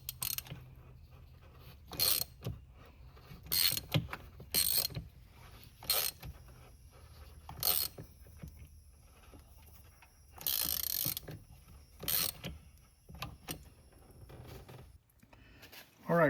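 A ratchet with a swivel extension loosens the spark plugs on a 2022 Ford Maverick 2.0, giving close, crisp bursts of clicking at irregular intervals, with brief pauses between strokes and faint background sound.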